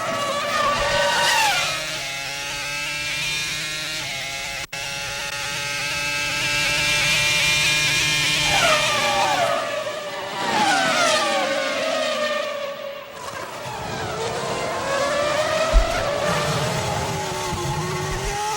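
Formula 1 cars race at the 2005 Japanese Grand Prix, high-pitched engines rising and falling in pitch as they pass and shift gears, several cars overlapping, with a brief skid-like sound.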